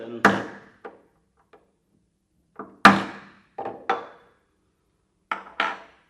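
A motorcycle brake lever bearing pin is hammered into place with sharp metallic taps, about eight of them, mostly in quick pairs separated by short pauses, close and clear in a quiet room.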